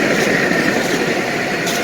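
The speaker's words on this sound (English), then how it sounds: "Oh, another train." Train passing at a steady distance, a continuous broadband rumble and rail roar that holds evenly throughout without any voices.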